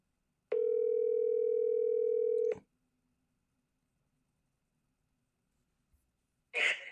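A steady telephone dial tone sounds for about two seconds and cuts off, followed by near-silence and then a brief burst of noise at the end, with no talk.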